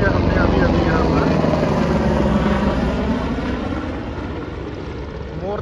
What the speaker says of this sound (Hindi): हेलीकॉप्टर्स को इतने ज़्यादा देख लिया हमने अभी अभी यहाँ पर।